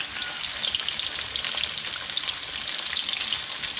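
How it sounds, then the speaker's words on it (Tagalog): Crispy tempura-style shrimp frying in oil: a steady, close, dense sizzle and crackle with no talking. "So madali lang itong iprito."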